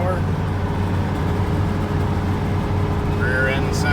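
An old squarebody K30 pickup with a 6.0 engine swap and welded rear differential drones steadily at about 90 km/h with road rumble, a continuous low hum, fairly loud and close throughout.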